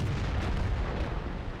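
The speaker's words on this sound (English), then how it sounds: "T49 tries something like a clutch shot" A tank gun firing in the World of Tanks video game, heard as a loud, dense boom with rumbling low-end blast noise that fills the short moment.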